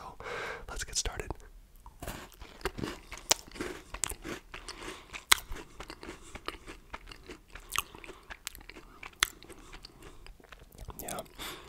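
Cadbury chocolate wafer fingers being eaten close up with crisp crunches and chewing, while a soft whispering voice talks over the bites.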